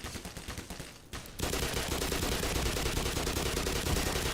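Rapid automatic gunfire from a weapon in the game Black Mesa, loud and sustained, with a brief burst followed by a short pause and then a long, unbroken stream of shots.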